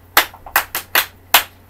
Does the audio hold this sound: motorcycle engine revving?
no